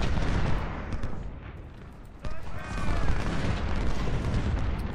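Skirmisher musket fire in Ultimate General: Civil War at Malvern Hill, a dense, continuous crackle of rifle volleys with a sharper burst midway, steady and fairly loud throughout.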